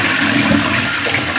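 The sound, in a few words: hotel bathroom toilet flushing water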